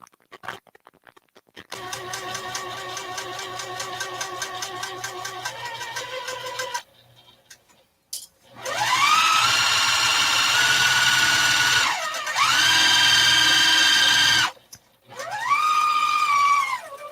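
A sewing machine back stitches the seam of a fat quarter bag, running in a steady rapid whir, pausing, then racing again in several loud bursts with quiet gaps between.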